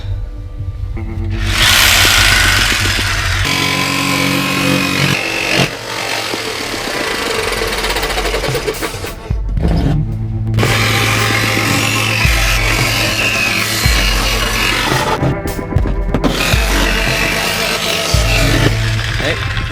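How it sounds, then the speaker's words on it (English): A jigsaw cuts a speaker mounting hole in a 2017 Mercedes big rig for an 8-inch Rockford Fosgate speaker install, giving a loud, sustained motor whine with short stops midway and near the end. "Okay, now jigsaw."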